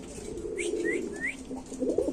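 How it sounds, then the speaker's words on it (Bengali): Pigeons coo in a low, steady murmur, with three short rising calls breaking through in quick succession. "দেখেন কবুতর ডাকটা একটু সামনে দেখাচ্ছি"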